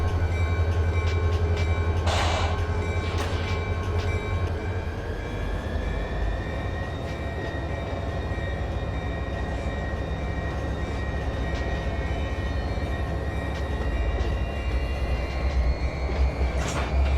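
A multi-level freight train rolls past in the Run8 train simulator with a continuous heavy rumble and rail noise, steady throughout, with a brief squeal or horn-like burst early on and sustained tonal wheel or engine whine.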